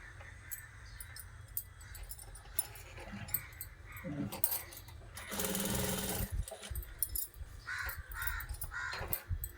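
A sewing machine stitches fabric for a lace blouse in short, whirring runs, with a longer loud burst midway, while crows caw and a dog makes sounds in the background.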